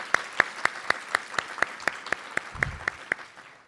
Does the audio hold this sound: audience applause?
yes